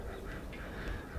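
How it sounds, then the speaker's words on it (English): Wild ducks quack in faint, scattered calls at a distance over a homestead farm, set against steady outdoor background noise. "Must be wild ducks over there."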